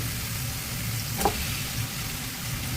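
Tomatoes go into frying masala for a salmon curry, giving a soft, steady sizzle with one brief clack partway through.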